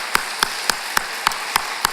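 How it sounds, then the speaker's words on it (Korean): A church congregation applauds the fathers at a Sunday service, a steady rhythm of about seven loud, evenly spaced claps over a dense crowd-clapping wash. "이 시간 우리 남편과 아버지들 응원해 위해서 격려의 박수를"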